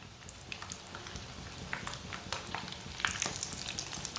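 Egg-coated potato tikkis fry in oil in a pan, a steady close crackling sizzle with scattered sharper pops throughout, growing slightly louder toward the end, with no talking.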